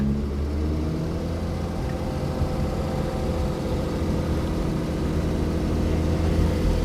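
A steady, low drone from a 1970 Ferrari 365 GT 2+2 engine rumbles continuously, fairly close, in first gear with a slight rise in intensity toward the end and no voices.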